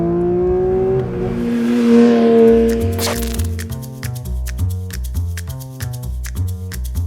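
Porsche 911 GT3 with its 4-litre flat-six that revs to 9,000 rpm, heard as a rising engine note at first, followed by a rhythmic stepped pattern of loud, close tones. No one speaks.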